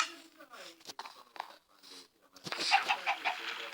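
Short clucking chicken calls in a survival game, scattered among soft clicks and rustles, followed by a louder burst of clucks near the end.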